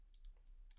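A few light, quick keystrokes tap on a computer keyboard, sparse and faint against a quiet low hum, with no voices.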